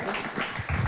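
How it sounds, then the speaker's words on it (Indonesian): A press-conference audience claps for a speaker at a Federal Oil and Kaskus event, a short burst of scattered applause with faint voices murmuring underneath. "Buat tepuk tangan sekali lagi buat Bapak Adi Negara"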